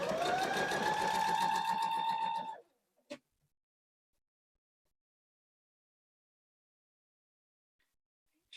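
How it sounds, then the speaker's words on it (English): A sewing machine runs a straight stitch, with a steady mechanical whir for about two and a half seconds before it stops, followed by a single click and then near silence. "now we're just going to sew a straight stitch"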